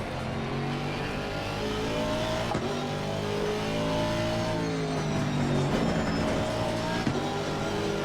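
GT race car engines in Assetto Corsa Competizione drone and rev at a steady, dense level, several cars together with shifting engine pitch, heard on their own without talk.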